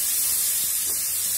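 Garlic paste frying in a pan for a drumstick and potato curry, giving a steady, even hiss that runs throughout at moderate level with no talking.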